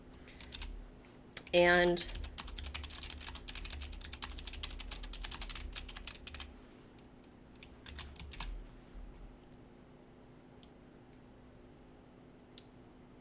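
Quiet, close keyboard typing clatters in quick bursts for several seconds, then thins to a few scattered keystrokes before falling silent.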